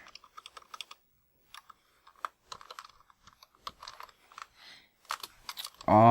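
Typing on a computer keyboard, heard up close as sparse clicky keystrokes in short bursts with gaps between them, ending in a sudden louder burst of sound.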